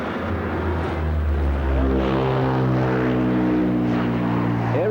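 A Super Guppy cargo aircraft at the Farnborough airshow, a loud continuous roar of turboprop engines with a droning propeller tone that shifts in pitch as the plane passes, with no voices.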